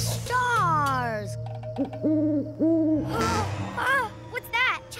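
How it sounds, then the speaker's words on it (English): An owl hoots in a cartoon kids' show about trains at night, giving several clear, close hoots in a row, some rising and falling, over a steady low hum. "What's that? Just an owl."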